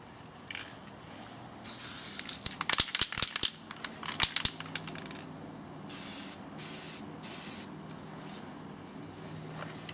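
A spray gun lays a first colour coat onto a car panel during a scratch repair, loud hissing bursts that start and stop, with crinkling and clicking sounds partway through and several short even passes near the end.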